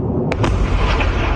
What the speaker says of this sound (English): Video circulating online showing massive explosions.